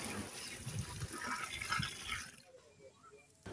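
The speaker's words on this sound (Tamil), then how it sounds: "சுத்தமான கிணத்து தண்ணி." Clean well water poured for cooking a biryani, a gurgling, splashing pour with clinking vessel sounds at moderate level, fading toward quieter dripping near the end.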